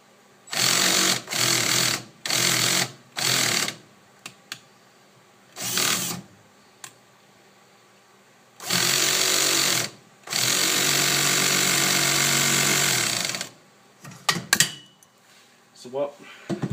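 A Dewalt power drill whirs in repeated short bursts, then in two longer sustained runs in reverse, loud and close, with brief clicks and handling noise between.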